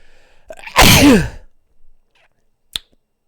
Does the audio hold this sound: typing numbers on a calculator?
no